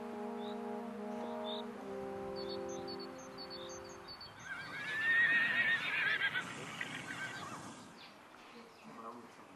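An Arabian thoroughbred horse gives a high, wavering whinny midway through, after steady droning tones at the start, and the neigh is heard at moderate distance.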